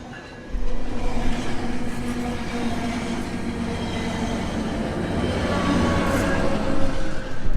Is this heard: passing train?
yes